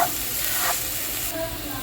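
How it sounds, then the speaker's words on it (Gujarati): A bitter gourd peel mixture is stirred in a pan, with a steady frying sizzle and hiss and soft scraping from the stirring running through the whole short stretch at moderate loudness. "બે મિનિટ આને હલાવતા રહીએ છીએ"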